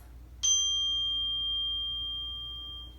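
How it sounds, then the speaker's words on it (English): A single chime is struck once in a quiet yoga class setting, ringing with a clear bright tone that sustains and slowly fades over a few seconds, heard alone. "I have my chime, and again it sounds like this."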